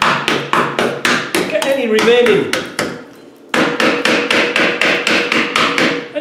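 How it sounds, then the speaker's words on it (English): Hammer tapping around a rusty rear brake assembly with worn-out shoes, a rear disc and drum setup, knocking off rust and debris in quick, sharp, evenly spaced metallic blows up close, pausing briefly while someone speaks, then resuming in a steady run. "I'm going to tap around everything,"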